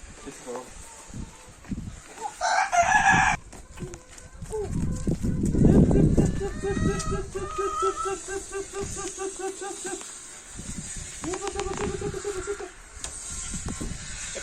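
Farmyard chickens cluck in a series of short, repeated calls through the middle of the clip, mixed with rustling and human voices talking nearby.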